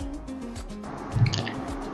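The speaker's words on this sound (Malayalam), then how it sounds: "ഇത് വെള്ളം തിളച്ച് വന്ന് നമ്മൾ കഴുകി വെച്ച അരിയും കൂടി ഇട്ട് കൊടുക്കുക" Washed rice tipped into a pot of boiling water, giving a short wet splash and plop midway, set against a low, steady bubbling background.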